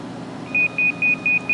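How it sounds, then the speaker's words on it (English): Four short, high electronic beeps from an alarm clock's pre-alarm in an even rhythm over a steady low background hum, close and clear. "That pre-alarm went off."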